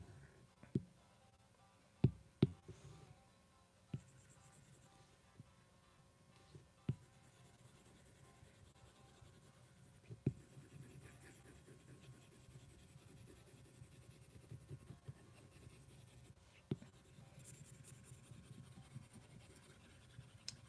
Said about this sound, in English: can you hear the scratchiness of that new paper-like screen protector?